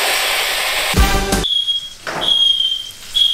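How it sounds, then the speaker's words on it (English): Smoke alarm going off in a California home kitchen where thick-cut bacon is cooking, sounding as loud, piercing high electronic beeps repeated in a steady on-off rhythm after a brief burst of clatter. "Bro, you still have the alarms again, bro."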